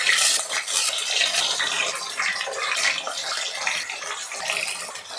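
Paneer cubes frying in hot oil in a pan, cooked for matar paneer, give a steady broadband sizzle with a bubbling, watery texture that runs loud and close for the whole stretch with no talking.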